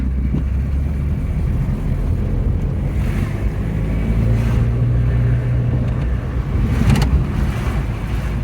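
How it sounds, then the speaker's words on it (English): A Ford Fiesta turbo project car drives for the first time in 21 years, heard from inside as a steady low road and engine rumble with heavy wind buffeting, no voices. "what's a Fiesta that's not driven in 21 years go like?"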